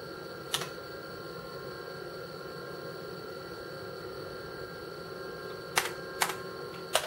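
Keys pressed on an IBM 5155 portable computer keyboard: one sharp click early, then a quick cluster of three clicks near the end, all over a steady electronic hum and fan noise.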